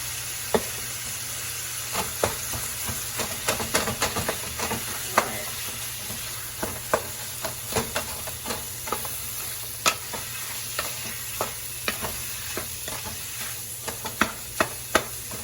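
Ground meat browning in a pan with red pepper and Italian seasoning, a steady sizzle running throughout with frequent sharp spatters and crackles popping at irregular intervals, close and alone.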